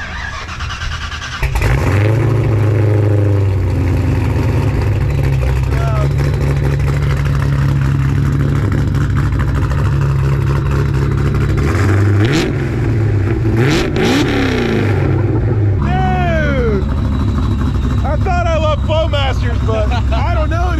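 Supercharged 347 Ford Foxbody Mustang V8 with a Vortech blower fires up loud and close, settling into a steady lumpy idle, then blips through several sharp revs before idling again, with people talking over it.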